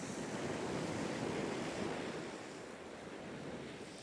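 Sea waves wash onto the beach at Hornsea in a continuous soft roar with wind noise, steady and moderately distant, with no one speaking.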